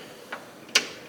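Two quick ratcheting clicks from a 10mm socket wrench tightening a nut on hood shock mounts of a 2022 Honda, close and crisp, the second louder, with no talking.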